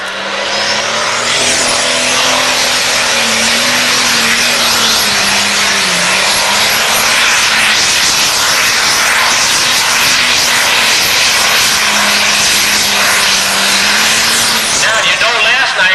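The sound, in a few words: pulling tractor engine roaring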